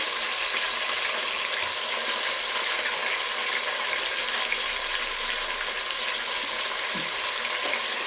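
Two large tomatoes fry in hot oil for a mushroom biryani, giving a steady, close sizzle that fills the whole stretch with faint stirring noises and no voices.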